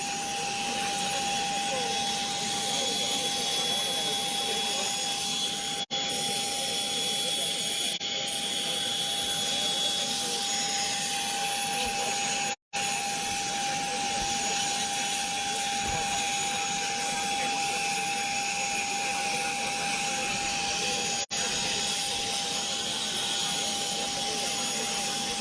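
The plane that will carry the Jambi regional police chief gives off a loud, steady engine whine and roar that runs without a break, with a constant high tone over broadband noise.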